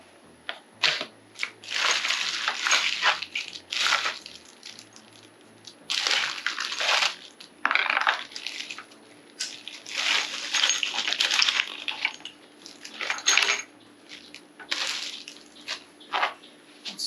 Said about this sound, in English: A bag of bolts and washers and nuts.